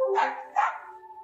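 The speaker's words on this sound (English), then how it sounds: "It's a doggy." Two close barks from a dog in the video game Distraint 2, a short double yip followed by a held electronic tone, with no talking over it.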